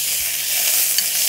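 Rice goes into a hot pot for butter pulao and sets off a steady, loud, close sizzling hiss that runs without a break.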